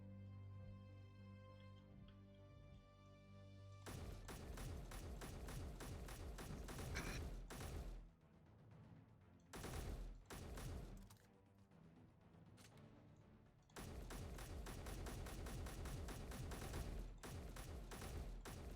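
Rapid automatic gunfire aimed at enemy gun turrets in Space Engineers: dense, loud bursts of rattling shots, broken by short pauses, then resuming in a long sustained volley.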